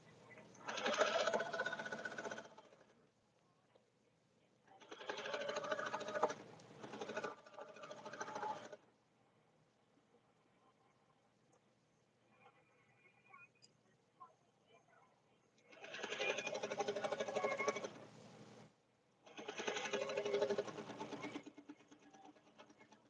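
A sewing machine stitches the side seam of a shirtdress in four steady bursts of a few seconds each, loud and close, with quiet pauses in between and no talking.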